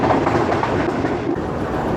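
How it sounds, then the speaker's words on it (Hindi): The 46 Down Pakistan Express passes through a station on a Pakistani railway line, a loud, steady, close rumble of wheels and carriages with a continuous roar and no talking. "46 डाउन पाकिस्तान एक्सप्रेस थ्रू जाएगी।"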